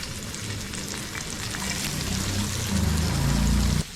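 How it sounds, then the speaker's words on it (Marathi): Onion frying in oil in a pan, a steady hissing sizzle that grows louder toward the end, with a low rumble underneath, close and alone without speech. "कांदा तेलामध्ये भाजून घ्यायचा आपल्याला"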